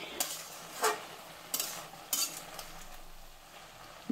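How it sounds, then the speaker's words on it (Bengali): Masoor dal being stirred together with spinach in a pan, giving a few short scraping stirs over a faint, quiet sizzle with no talk. "মুসুর ডালও খুব ভালো করে নাড়াচাড়া করে শাকের সঙ্গে একটু মিশিয়ে নিচ্ছি।"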